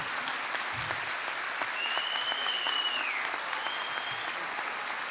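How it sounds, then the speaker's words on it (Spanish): Audience applause at a film event, steady broadband clapping filling the whole stretch at moderate level, with a couple of faint whistles or high whoops rising above it midway. "un fuerte aplauso para todos ellos porque se lo merecen"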